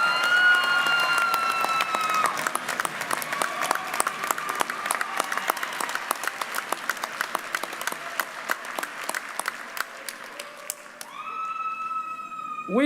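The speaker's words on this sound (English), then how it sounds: "How about one more round of applause?" A graduation ceremony audience applauds with sustained, dense clapping that holds at a steady level for over ten seconds, then thins out, while a siren-like wail and cheering whistles rise over it near the end.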